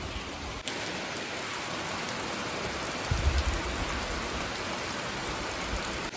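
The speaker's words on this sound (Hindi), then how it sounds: "पहले थोड़ी हल्की हल्की बारिश शुरू हुई, अब तो बहुत ही बारिश होने लगी है।" Heavy rain pours down steadily in a hillside village, a dense, even hiss of water on surfaces, with a brief louder patter partway through.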